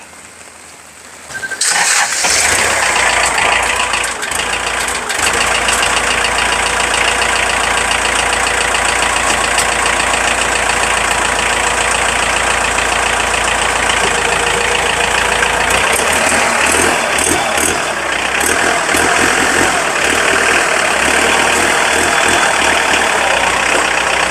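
A 45-horsepower tractor with a front loader and backhoe, its engine catching after a brief start and settling into a steady, loud, close idle with a slight change in tone near the end.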